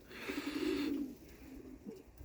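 Pigeons coo in a pigeon loft, a close, low throaty cooing phrase followed by a quieter second coo, with faint rustling and no talking.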